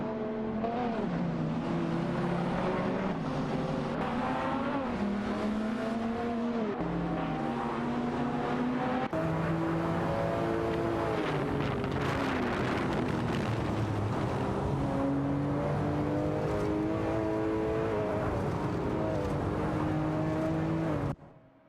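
Engines from several race cars in an AI-driven racing game whine and rev continuously, their pitch rising and falling as they shift and jostle for position, loud and steady throughout.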